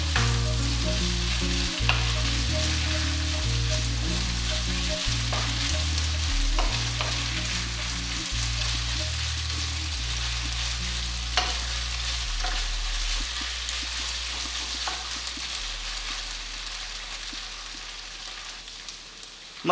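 Spicy beef stir fry with soy sauce and salt frying hard in a pan while being stirred, a loud continuous sizzle broken by repeated scraping strokes, fading slightly toward the end.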